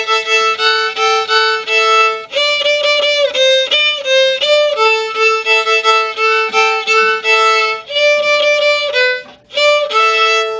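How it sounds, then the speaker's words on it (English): A bowed violin plays a bright, lively melody of short and sustained notes, loud and close, with brief pauses between phrases and no talking. "One instrument you may choose is the violin."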